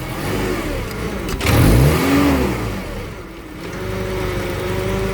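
Car engine idling after resistance is added to its circuit: a close, steady mid-pitched idle that briefly rises and falls as the revs shift, then settles back to an even hum.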